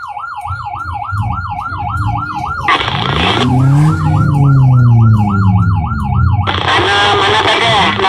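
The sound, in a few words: ambulance siren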